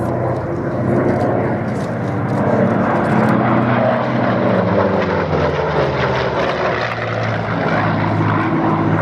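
A P-51 propeller aircraft at the Duxford Air Festival 2019, its engine a loud, steady droning roar with a slowly shifting pitch as it passes, sustained throughout without pause.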